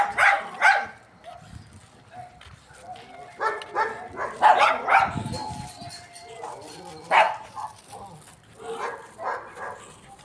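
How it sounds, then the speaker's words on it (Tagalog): Several dogs bark and yip in short, irregular bursts, some near and loud, with brief whimpers between. A person's voice is heard alongside. "Ang daming dala ditong aso."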